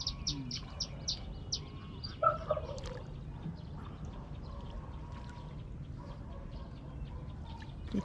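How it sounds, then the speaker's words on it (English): A flock of geese honks and calls by a river, several repeated cries early on over faint water and paddling sounds, heard from a traditional bamboo boat. "Here come the geese"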